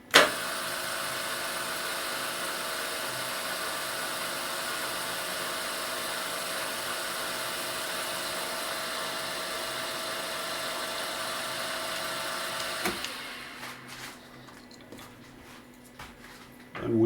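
A machine runs with a Kuroda boring head on rapid traverse, a steady, even mechanical whine and hum for about thirteen seconds that then cuts off, leaving faint ticks and rattles.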